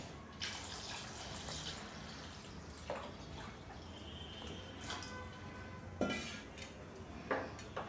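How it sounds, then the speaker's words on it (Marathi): About a litre of water goes into a pot of tomato saar on the stove. Soft pouring and splashing mix with occasional metallic clinks of a utensil against the pot, quiet and close, with no one speaking. "एक लिटर पाणी टाकलं आणि हे पूर्ण मिक्स करून घेतलं मी"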